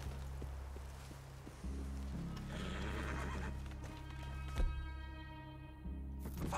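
Horses whinny and snort while hooves clop on the ground in the video game Red Dead Redemption 2, over a low steady hum; no one speaks.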